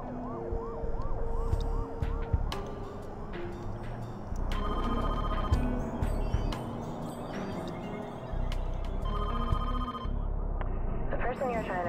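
In the Jurassic Park: Trespasser video game a telephone rings in repeated warbling bursts among other busy electronic tones and noises, while people talk over the sound.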